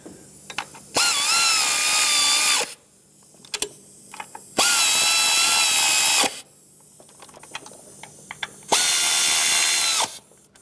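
Three bursts of a power driver whirring, each lasting about two seconds, tighten valve cover nuts on a 1997-2003 Lexus ES300 engine, loud and close, with faint clicks and taps between them.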